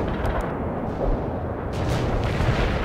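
A heavy artillery strike in World in Conflict, a loud, continuous rumbling barrage of booming explosions rolling on for the whole stretch with no voices over it.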